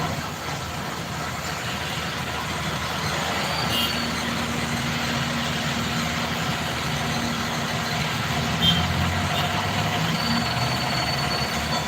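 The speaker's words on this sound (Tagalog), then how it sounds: "Super traffic." Morning traffic of trucks and buses on a city road in Naga City produces a steady low engine rumble and idling drone, with a few brief louder passes and no voices.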